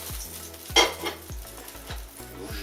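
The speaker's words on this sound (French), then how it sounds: "je mets mon rôti de palette, je le fais sauter" Pork shoulder roast sautéing in hot oil for homemade ramen, a steady sizzle with a brief louder burst of spattering and a few light clinks of a utensil against the pan.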